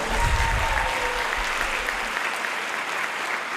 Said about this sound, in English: Let's give a round of applause to our support scholars.